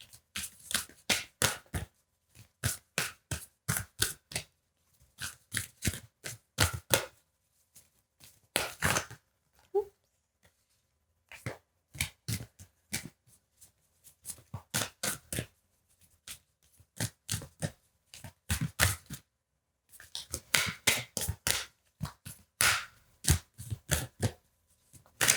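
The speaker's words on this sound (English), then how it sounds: "when I was shuffling the deck" Quiet, crisp riffling of playing cards comes in repeated bursts with short pauses between, close and isolated with no talking.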